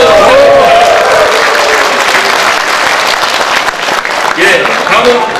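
A crowd at a Korean regional councillors' rally applauds an arriving party leader, loud, close, continuous clapping with cheering voices and a loudspeaker voice faintly running through it.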